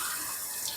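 Tap water streams steadily over canned kidney beans being rinsed of preservatives in a kitchen sink, a brief, soft, continuous splashing wash with no talk.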